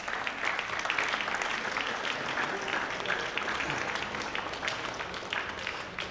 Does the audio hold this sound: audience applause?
yes